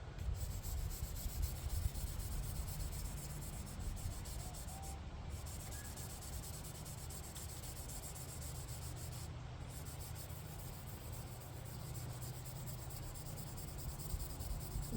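A kitchen knife is polished on a whetstone, giving a continuous soft, gritty rubbing that is quiet and close with no pauses.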